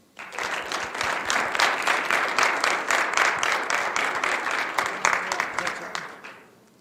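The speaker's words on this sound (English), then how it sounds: "just want to give a big round of applause to our entire swim and dive team" A school board meeting audience gives a big round of applause for the swim and dive team. The clapping is full and sustained for about six seconds before fading quickly, with some voices mixed in.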